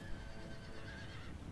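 A horse in an American Civil War game mod gives a short, faint whinny after being shot, set against a low background rumble.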